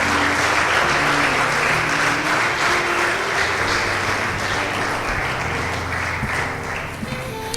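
A church congregation gives sustained applause during a sermon, a dense, even wash of many clapping hands that holds steady and loud before easing off slightly at the end, with a faint tone of music underneath.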